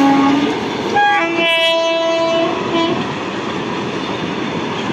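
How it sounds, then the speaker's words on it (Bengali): A freight train in India rolls past at moderate speed, with loud continuous rail rumble and several horn blasts sounding near the start, no voices. "এবার মালগাড়ি দেখুন, এটা মডারেট স্পিড।"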